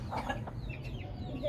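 Hens and chicks inside a cage cluck in a short run of soft, close, overlapping calls, with no one speaking.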